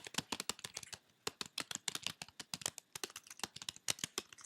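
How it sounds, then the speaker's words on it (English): Rapid, irregular keystrokes on a computer keyboard, close and crisp, tapping steadily for several seconds with short pauses and no talking. "I'm typing"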